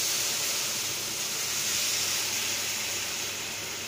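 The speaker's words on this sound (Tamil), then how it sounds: "அந்த சூட்டோட அதில் அப்படியே அந்த வெல்லத்தை ஊற்றிக்கலாம் வடிகட்டி" Hot jaggery syrup poured into hot wheat for halwa, giving a continuous loud sizzling hiss that stays steady and close for the whole stretch, no speech.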